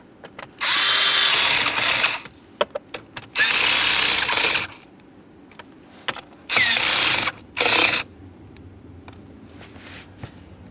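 A cordless power drill tightens screws on the combination switch of a 2015–2020 Ford F-150 in four loud whirring bursts, with short clicks and handling noises in the gaps.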